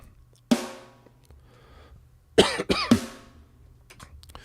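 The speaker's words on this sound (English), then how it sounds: "So the snare MIDI sounds like this." A few sharp, percussive MIDI snare drum hits from the Get Good Drums Brutal library with quick decays, one isolated strike followed by a closer cluster of two or three, dry and fairly loud.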